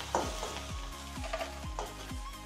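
Potato and onion mixture sautéing in a pan with turmeric, a steady sizzle broken by regular scraping strokes of a spoon, close and moderately loud, no voices.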